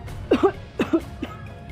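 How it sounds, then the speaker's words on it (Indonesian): A few short, throaty coughs in a quick series, fading by the last one, over a low background rumble. "Deru batuk datang dari hutan lebat."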